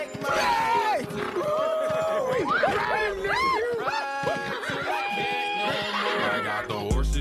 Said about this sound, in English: Killer here has thrown his last five riders